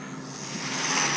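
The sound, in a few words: Losi Mini B RC speed run car at full throttle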